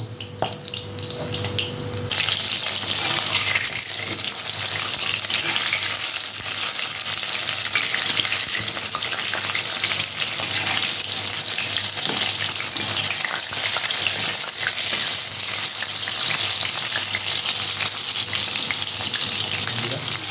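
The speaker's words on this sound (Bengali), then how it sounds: "আমি চারটে করে ভাজবো বন্ধুরা প্রথমে যে এবার আঁচটা একটু বাড়িয়ে দেবো" Four pieces of amudi fish fry in hot oil in a pan over raised heat, a loud, steady, crackling sizzle that swells after the first couple of seconds and carries on unbroken, with no talk.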